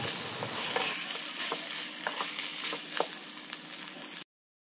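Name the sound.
marinated chicken added to pan and frying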